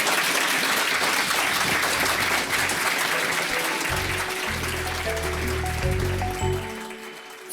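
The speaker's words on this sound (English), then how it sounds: "we will give our one lovely guest a round of applause." A live podcast audience claps for a guest in a sustained burst that thins out toward the end, with music tones coming in under it.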